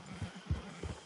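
A horse in the Red Dead Online video game, with soft, low hoof thuds and a faint snorting whinny near a camp, brief and fairly quiet against a steady ambient background.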